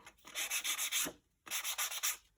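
A sanding block rubs back and forth along card edges in two quick bursts of short scraping strokes, close and crisp, separated by a brief pause.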